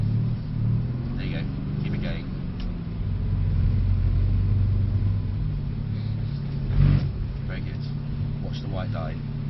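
Mercedes-AMG C63 S engine rumbling and revving at low speed during drifting practice, a steady throaty drone with a brief swell near the end, under a voice giving instructions.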